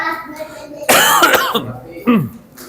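A single harsh, close cough bursts out, followed shortly by a smaller throat-clearing cough, with brief speech-like sounds around them.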